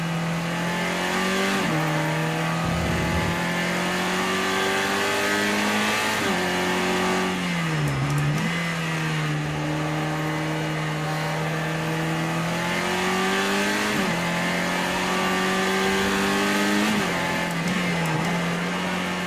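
A race car engine in Project CARS 2, running at a steady high drone that drops in pitch and flares up in short revving blips on downshifts, loud and close with no voices.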